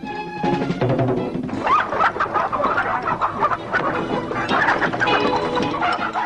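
Chickens cluck and squawk steadily, loud and close, with a busy farmyard bustle and no talking.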